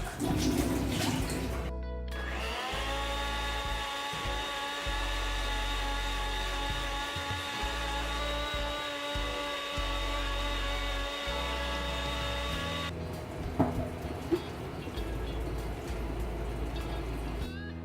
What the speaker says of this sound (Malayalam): നെക്സ്റ്റ് നമ്മൾ നന്നായി അരച്ചെടുക്കുക